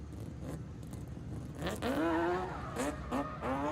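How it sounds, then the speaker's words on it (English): Race car with a four-rotor rotary engine in a Toyota Supra at a motorsport event, heard as a rising, sweeping engine tone that builds through several quick pulls, with crowd and ambient noise underneath. "So Adam in the world's only 4-rotor Supra"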